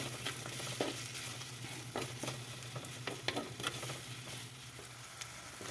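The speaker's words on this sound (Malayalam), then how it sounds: "ഉപ്പ് നമ്മൾ ഇട്ട് കൊടുക്കുന്നുണ്ട് എന്നിട്ട് നന്നായിട്ട് ഇളക്കി മിക്സ് ചെയ്യണേ" Sardine curry, Kerala-style spicy fish dish with salt just added, being stirred in a pan: soft steady sizzling with intermittent scraping stir strokes and light patter, fairly quiet and close, no talk.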